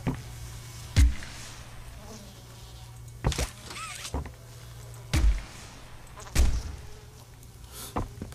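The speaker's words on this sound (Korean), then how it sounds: "파리 끓는 소리가 왜 나는 거지?" Flies buzz faintly in the background of the horror video game Poppy Playtime Chapter 3, a thin droning hum broken by several loud thuds spaced a second or two apart.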